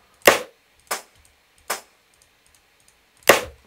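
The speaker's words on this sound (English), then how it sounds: "I think the snare is a layer between two samples from the Ramsoy pack." Layered snare drum samples from a sample pack play as four sharp, crisp hits, dry and isolated, with uneven gaps between them and silence in between.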